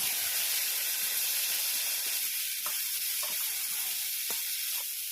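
Bitter gourd sizzling in hot oil in a pan, a loud steady hiss with occasional soft stirring knocks, close and alone without voices.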